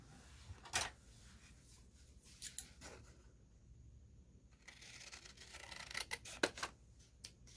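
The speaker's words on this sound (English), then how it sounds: "I'm going to attempt to cut this straight" Scissors snip through paper for a junk journal, a few quiet crisp cuts and rustles spread across an otherwise hushed stretch.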